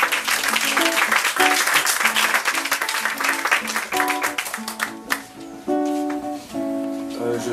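A live audience at an evening poetry reading applauds the poet Michel Sanon with dense clapping that thins out, while music with sustained tones rises and continues alone after the clapping fades.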